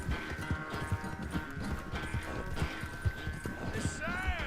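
An Arabian horse's hooves clip-clop in a steady, even rhythm at close range under ongoing talk, and the horse gives a short whinny at the end.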